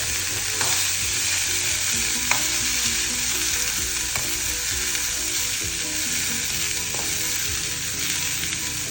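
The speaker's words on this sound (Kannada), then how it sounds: "ಸ್ವಲ್ಪ ಈರುಳ್ಳಿನೂ ಹಾಕ್ತಾ ಇದ್ದೀನಿ. ಅರ್ಧ ಸಾಕು ಈರುಳ್ಳಿ. ಚೆನ್ನಾಗಿ ಹುರಿಬೇಕು." Onion fries in a pan for cabbage chutney, a loud, steady crackling sizzle with occasional utensil taps over nine seconds.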